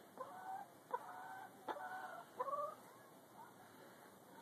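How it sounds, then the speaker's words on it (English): Backyard hens cluck softly in their chicken yard beside the coop, a few scattered short calls and a brief squawk, faint and fairly distant over quiet outdoor background. "This is where my chickens are currently habitating."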